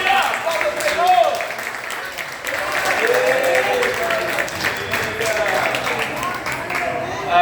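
A church congregation clapping in praise during an evening worship service, sustained applause with cheering voices rising through it, easing slightly midway before swelling again.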